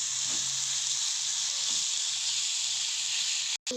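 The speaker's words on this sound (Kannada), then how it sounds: "ಈರುಳ್ಳಿ ಸ್ವಲ್ಪ ಅಲ್ಲಿವರೆಗೂ ಒಂದು ಸ್ವಲ್ಪ ಫ್ರೈ ಮಾಡೋಣ." Onions frying in oil in a pan, cooked until soft for aloo paratha, give a steady, even sizzle that runs throughout, with a brief dropout near the end.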